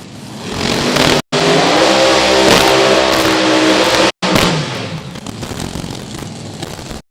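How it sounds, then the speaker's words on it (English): Methanol-fueled funny car drag racers at Texas Motorplex, a loud roaring engine blast that cuts out twice abruptly and then fades into a lower, fading rumble. "Pair of methanol fueled machines, gonna see about putting up some big numbers because they both can."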